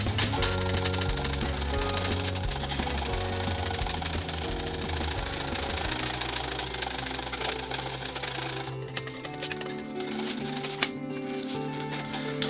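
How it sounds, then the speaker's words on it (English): Whole cream being whisked in a bowl for a creamy dessert cocktail, a loud, fast and steady rhythmic clatter that runs without a break from start to finish. "Whisk it, whisk it, whisk it."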